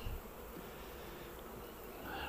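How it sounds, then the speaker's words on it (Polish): Honeybees hum around the frames of an open hive, a soft continuous buzz at close range with faint rises as individual bees pass, and no voices. "Pszczoły są zajęte, jakoś są nie bardzo nawet mną zainteresowane, czyli coś tam, po coś tam latają."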